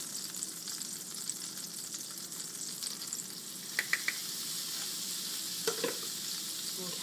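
Butter and flour cooking in a pan for a bechamel base, a soft, steady low sizzle with a few faint clicks and taps of utensils, no talking.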